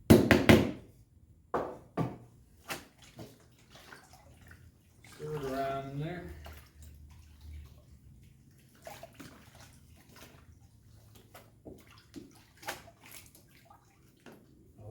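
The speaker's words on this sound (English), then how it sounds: "Stir it around in there." Deer hide being stirred in a baking soda neutralizing bath, sloshing water and scattered knocks against the container, with a voice talking between the sounds.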